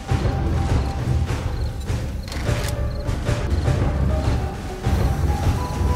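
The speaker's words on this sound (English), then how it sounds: "Oh, they brought the entire second floor down." A house's second floor caves in during a blood moon in the video game 7 Days to Die: a continuous dense roar of crashing, thudding debris and rumbling collapse, loud and close, with several sharper smashes throughout.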